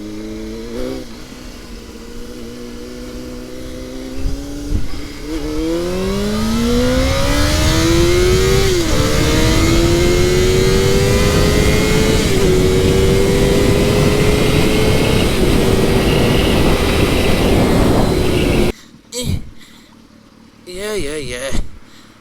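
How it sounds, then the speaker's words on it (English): A 2004 Honda CBR 600 motorcycle engine roars close by, its pitch climbing steadily through a long hard acceleration with a few brief dips, loud and sustained until it cuts off near the end, followed by some handling noise. "2004 CBR 600. Listen to her roar."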